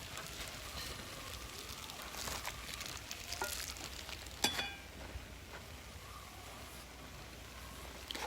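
Kielbasa sausage with potatoes and onions frying over a camp stove outdoors, a steady soft sizzle running throughout with a few brief clinks of utensils midway.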